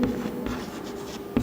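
Chalk or marker scraping across a board in a chemistry lecture classroom, a few short strokes with a sharper tap near the end, close and fairly quiet with no talk.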